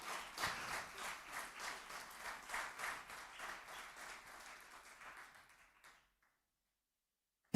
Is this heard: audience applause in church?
yes